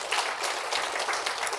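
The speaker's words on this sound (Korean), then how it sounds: "영광의 박수를 올려드리도록 하겠습니다" Steady applause from a church congregation, dense clapping holding evenly throughout with no voices on top.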